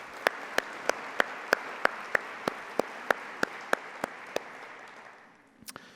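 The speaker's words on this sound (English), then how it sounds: "Please give yourself a round of applause for your incredible philanthropic efforts." Applause from a crowd fills the space, with loud individual claps popping out at a steady rhythm before it fades away.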